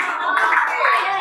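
A classroom of pupils claps hands together in a short counted clap pattern, a brief burst of group clapping lasting just over a second.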